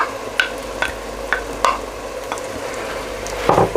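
Pureed tomatoes go into a hot frying pan for a chicken and chickpea curry, setting off a soft sizzle with a few scattered stirring clinks and scrapes nearby, no voices.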